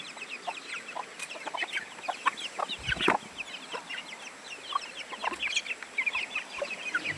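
Chickens clucking in a yard, scattered short clucks and chirps from several birds close by, with a louder flurry midway and a faint crow in the mix.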